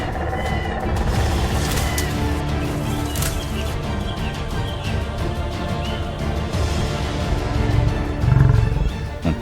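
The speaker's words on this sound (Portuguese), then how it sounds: "a alcateia de leões avança de uma só vez" A pride of lions charges a giraffe on dry savanna grass, deep roars and growls rolling over a dense, churning struggle, loud and close with a heavier burst near the end.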